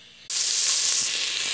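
Salt pork (toicinho) hits a hot pan and erupts into a sudden loud, close sizzle that keeps up a steady crackling hiss.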